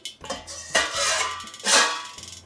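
A metal utility rack is set down on top of egg cups in a kitchen, giving two bright metallic clanks with short rattles, close and loud, with no talking.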